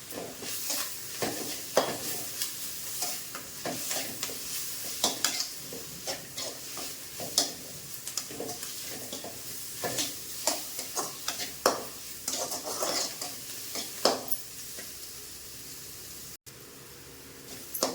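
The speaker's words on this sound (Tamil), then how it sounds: "போட்டு வதக்கி விடலாம் இது கூட கருவேப்பிலையும் கொத்தமல்லையும் கொஞ்சம் போட்டு" Curry leaves and coriander sautéing with onions and tomatoes in a pan for egg rice: close, steady sizzling broken by frequent scraping stirs, with no talking.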